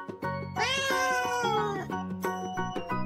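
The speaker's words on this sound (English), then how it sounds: "Cat." A cat meows in one long, drawn-out call followed by a couple of shorter meows, close and loud, with harmonic music running underneath throughout.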